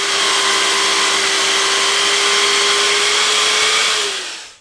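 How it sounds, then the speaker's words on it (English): A power saw cuts through a wooden table leg, its motor a loud steady whine over one continuous cut lasting about four seconds before it winds down and stops. "clamp it into place and cut all these down to 75 millimeters"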